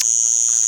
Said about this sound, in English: We've got like cicadas or something in our tree.